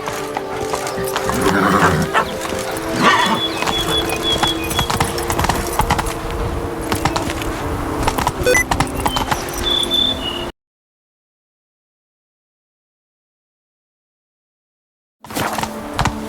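Roach, the horse in The Witcher 3, galloping with a steady loud rhythm of hoofbeats and rumbling movement for about ten seconds, then dead silence before the sound briefly returns.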